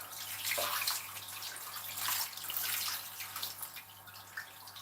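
Tap water runs steadily over a salt-crusted, tied beef fillet being rinsed in a sink, a close splashing hiss that swells and fades slightly as the meat is turned.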